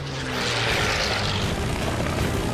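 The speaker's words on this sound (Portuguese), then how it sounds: "O motor Merlin do Mustang acelerou a mais de 720 km por hora e ele desceu na direção dos inimigos, de frente." P-51 Mustang with a Merlin engine accelerating, a loud, steady propeller-aircraft engine roar that swells slightly and holds throughout, with no talk.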